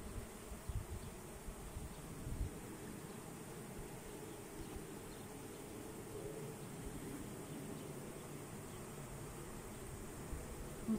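A swarm of honey bees flies around an apiary, a faint, dense, continuous buzzing hum with a few soft knocks and rustles, steady throughout with no talk.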